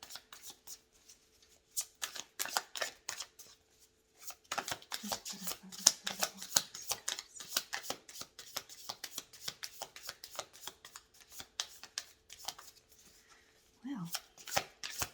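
Tarot cards are shuffled by hand in quick, crisp riffling bursts, close and soft, pausing briefly before resuming in long runs of rapid flicks, with a brief murmur of speech near the end.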